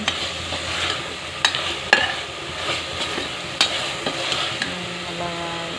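Mint leaves sauté in a pan for mint rice, a steady, moderate sizzle broken by occasional sharp scrapes and taps of a spoon stirring.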